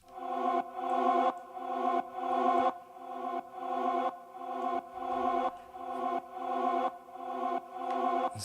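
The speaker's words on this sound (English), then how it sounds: "It's simply just a pad sound" A synth pad sounds a chord again and again, each swelling in with a soft fade-in, about ten rhythmic pulses that sit alone and fairly quiet.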